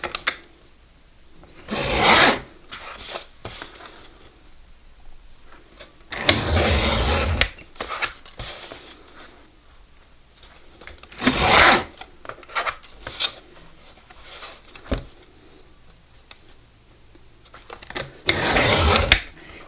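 Paper being trimmed for a glitter card, with several loud rasping cutting strokes spaced a few seconds apart over quieter handling noise, no talking.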